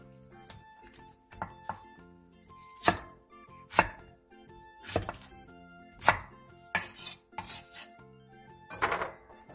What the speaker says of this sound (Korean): 양파 2분의 1개를 큼직하게 자르고 대파 2분의 1개는 길게 반으로 가른 뒤 3에서 4cm 정도 길이로 잘라주세요